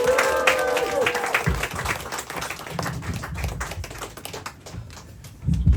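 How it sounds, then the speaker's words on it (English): Comedy club audience at Camden Comedy Club claps and laughs in a quick burst that fades out within a few seconds, followed by quieter room noise and a voice. "That was a really quick stopping of the laughter and clapping"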